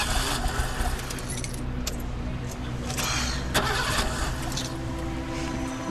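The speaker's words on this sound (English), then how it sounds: "My car won't start." A car engine cranks without catching, a rough grinding churn mixed with jangling keys, close and moderately loud, with no voice over it.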